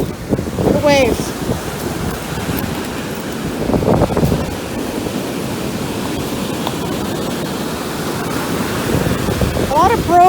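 Ocean waves wash up a beach strewn with broken shells as the tide comes in, a steady broad rush of surf close by with wind on the microphone, and a voice talking briefly at the start and end.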